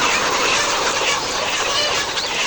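Layer chickens at a poultry farm, being handed over for delivery, fill the air with a dense, continuous clamor of clucking and squawking from many birds close by, steady throughout with no voices.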